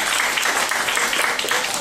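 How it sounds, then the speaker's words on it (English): An audience at a library author event claps steadily for a Summer Reading Club announcement, a dense, even wash of many hands filling the room from start to finish. "give yourselves a round of applause"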